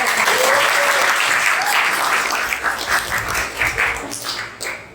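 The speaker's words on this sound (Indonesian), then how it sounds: "Oke, tepuk tangan." A classroom of students breaks into loud, crowded applause during an economics lesson. The clapping is dense and near and fades gradually toward the end.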